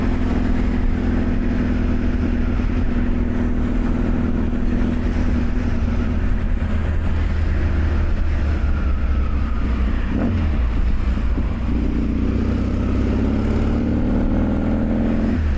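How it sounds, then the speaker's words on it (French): A loud Yamaha XTZ 750 Super Ténéré motorcycle engine runs steadily throughout, its low rumble rising in pitch as it revs near the end. "la moto fait un peu de bruit, je l'avoue"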